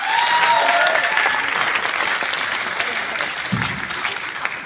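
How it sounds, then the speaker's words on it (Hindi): An audience at a motivational business talk in Gurugram breaks into sustained, dense applause, loudest at the start and easing slightly, with faint background voices mixed into the clapping. "आपके लिए एक बार जबरदस्त ताली होनी चाहिए साथियों, जबरदस्त"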